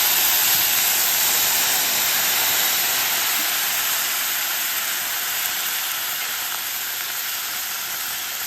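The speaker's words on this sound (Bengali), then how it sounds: "একটু জল দিয়ে দিচ্ছি।" Spice paste of black cumin and ground ginger sizzling hard in a frying pan after a splash of water, a steady loud hiss with steam, no talking.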